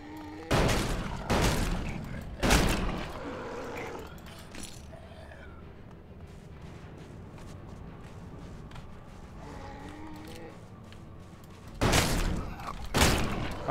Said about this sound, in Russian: Ага, ну да, это же дробовик.